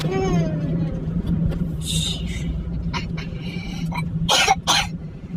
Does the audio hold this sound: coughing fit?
yes